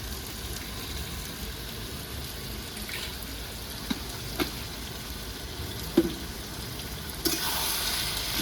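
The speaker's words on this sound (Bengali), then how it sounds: "এবার আমি দিয়ে দেবো আদা রসুনের পেস্ট 2 চামচ" Ginger-garlic paste fries in a pan with a soft, steady sizzle, broken by a few light stirring clicks and scrapes and a louder hiss near the end.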